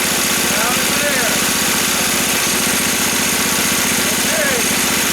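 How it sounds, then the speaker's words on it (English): A PZ30 carburetor engine on a go-kart runs steadily with its clutch turning, a loud continuous mechanical drone and rattling hum throughout, close to the microphone, with faint background sounds. "So you see the motor start. Here we go. You see the clutch turning."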